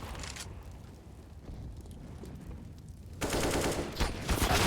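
Gunfire in a Counter-Strike match, a muffled rattling burst followed by a loud, dense crackling volley near the end, with no speech.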